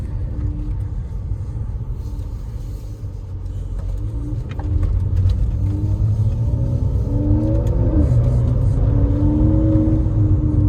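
A manual-transmission car engine running while driving, with a steady low rumble and road noise that rises in level partway through as the engine note climbs and shifts.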